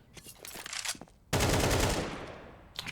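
An AK rifle fires in an ESL Challenger League video game match: scattered shots, then a loud sustained burst that rings out and fades, with another volley at the end.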